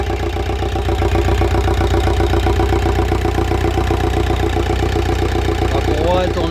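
A VW engine idles loudly and close, with a new starter and alternator and the alternator belt turning. The running hum is steady with a fast rhythmic pulse, and a voice speaks briefly near the end.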